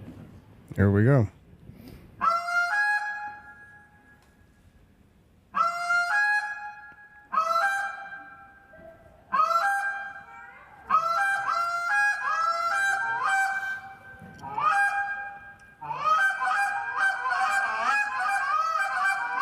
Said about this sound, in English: Is that buzz cluck you were talking about right there?